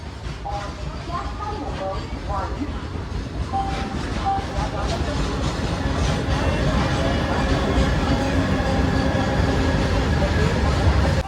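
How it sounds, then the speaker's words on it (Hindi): The Chhattisgarh Express sleeper train pulling out of platform 3 at an Indian railway station, a loud steady rumble and rattle of rolling wagons building over eleven seconds, with faint voices and clanks mixed in. "हमारी जो ट्रेन है छत्तीसगढ़ एक्सप्रेस प्लेटफॉर्म नंबर 3 से निकल गया"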